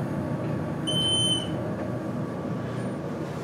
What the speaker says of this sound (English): That the beeper is sick.